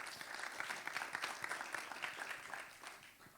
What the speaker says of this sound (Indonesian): Yang semangat kasih tepuk tangan dulu untuk Tuhan kita.